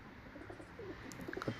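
Pigeons in a loft coo and rustle softly, a faint, brief burst of low calls that sits well in the background.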